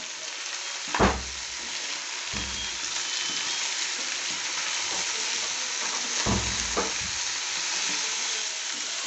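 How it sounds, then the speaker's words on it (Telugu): Chopped ivy gourd fries in a pan with a steady close sizzle, broken by a few dull thuds and scrapes as a spoon stirs the pieces, with no voices. "దొండకాయలు వేసుకున్న తర్వాత కలుపుకుందాం"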